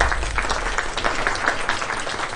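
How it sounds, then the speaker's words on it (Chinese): Warm applause from a live audience welcoming contestants at the Huoxian game national finals: dense, steady clapping from a crowd throughout, loud and close. "让我们以热烈的掌声欢迎各位参赛选手"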